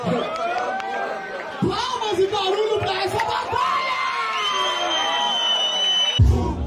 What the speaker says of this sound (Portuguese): Palmas e barulho pra essa batalha!